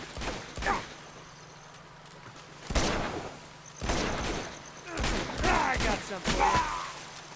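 Gunfire in Uncharted 2 Remastered, a machine gun firing in several separated loud bursts with pauses between them, mixed with mechanical clanks and faint talk.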